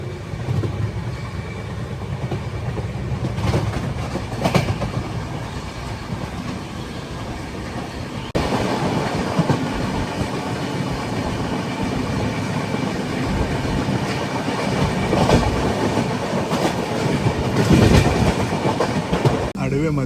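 A passenger train rolls through the Nallamala forest, a steady loud rumble and rhythmic clatter of wheels on track, growing heavier partway through as the carriage sways.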